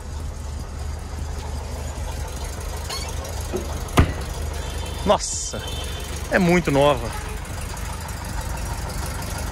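An original Volkswagen Brasília classic car idles steadily with a low, even engine rumble, joined by a few brief clicks and a short voice speaking over it.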